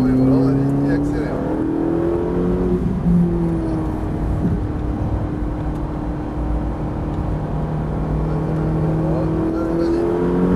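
A Ferrari 458 engine hums and revs steadily throughout, its pitch holding and shifting as it accelerates, with a person talking over it now and then.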